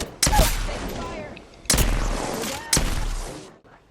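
Three sharp, loud gunshot bursts from an Apex Legends firefight ring out about a second apart, each with a booming echo that trails off before the next.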